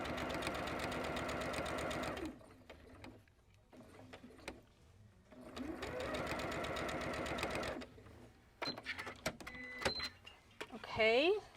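A sewing machine stitches quilt strips with a scant quarter-inch seam, running in two long steady bursts with a quiet pause between, followed by short stop-start stitches and small clicks near the end.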